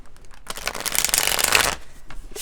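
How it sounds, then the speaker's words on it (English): A deck of tarot cards is riffled and shuffled in one quick, crisp flurry of papery flutter, close up. "Now I am going to give us a good shuffle here"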